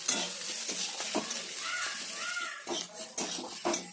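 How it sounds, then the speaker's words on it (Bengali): Potatoes tossed and fried with poppy seed, ginger, salt, cumin and chili powder in a pan, giving a steady sizzle broken by a few scraping stir strokes of the spatula, close and fairly loud with no talk. "তারপরে পোস্ত আলুটা দিয়ে একটু নাড়িয়ে চাড়িয়ে নিন ভালোভাবে।"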